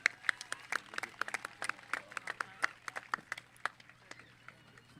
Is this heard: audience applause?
yes